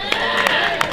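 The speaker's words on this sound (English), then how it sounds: "So a big round of applause to all of you" Brief applause from a pub crowd at a pizza and bar night, a dense wash of clapping with a few sharper claps standing out, lasting about a second.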